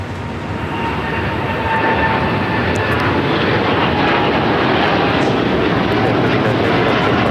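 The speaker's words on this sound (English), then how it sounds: "This is United Airlines Flight 39 taking off to Tokyo, Haneda on the 787-10 Dreamliner." A United Airlines Boeing 787-10 Dreamliner takes off from LAX bound for Tokyo Haneda, a broad roaring jet engine noise building in the first seconds and then holding loud and steady.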